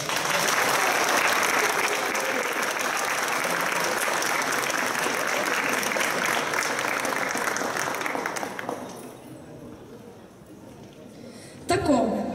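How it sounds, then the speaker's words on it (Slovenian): Warm applause from the audience at the closing ceremony of a school chemistry event fills the room for about nine seconds, then fades to quiet before a brief burst of sound near the end. "Za vse prosim še en topel aplavz."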